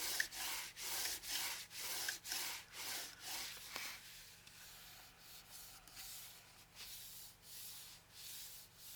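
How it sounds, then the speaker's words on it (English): Paper burnished down by hand while making a dos-a-dos book: about eight brisk, evenly spaced rubbing strokes up close, then softer, slower rubbing in a quiet room. "I'll burnish that down."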